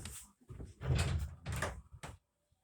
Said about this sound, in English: I gotta open this door.